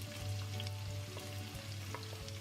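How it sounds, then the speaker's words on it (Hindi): Sliced onion and fenugreek seeds fry steadily in hot oil for a palak chicken dish, a continuous close sizzle with small crackles and pops throughout, no voices. "और इसको हम इस ऑयल में ऐड कर लेंगे।"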